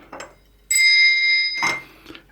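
A single bright bell note, played by a micro:bit, rings out clearly and sustains for nearly a second, framed by faint soft knocks before and after.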